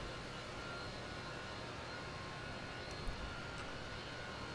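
A Fokker 100 airliner taxis slowly in a flight simulator game, a steady low engine drone and broadband cabin rumble continuing unchanged with a faint high whine.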